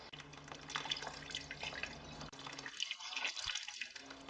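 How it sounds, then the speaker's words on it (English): Water trickles and drips steadily as it drains from a car's heater core, a soft splashing flow with faint gurgles, fairly quiet and close. "we're going to let the water come out slowly"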